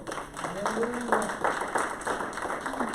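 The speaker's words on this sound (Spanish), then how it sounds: "Den un fuerte aplauso al Señor." A church congregation claps during a Spanish-language service, fairly soft and scattered, with a voice talking over the clapping throughout.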